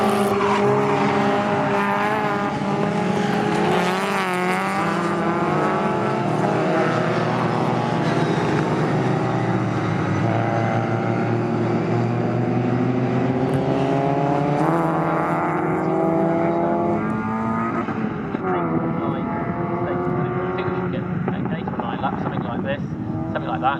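MG Metro race cars at Snetterton circuit howl steadily as a pack of four pulls away at the front, engine notes rising and overlapping, loud and continuous beneath ongoing race commentary.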